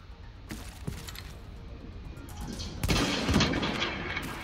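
Gunfire in The Division, a few sharp shots early on, then a louder burst of crackling fire and impacts that stays dense and close for the last second and a half.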